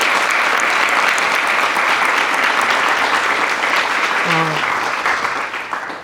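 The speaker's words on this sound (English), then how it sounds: "certainly want to give a huge round of applause to this contestants" An audience gives a sustained round of applause to the contestants at a university pitch competition, steady and full for several seconds before it begins to thin and fade at the end.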